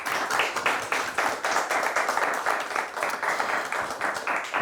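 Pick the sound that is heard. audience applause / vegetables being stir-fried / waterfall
audience applause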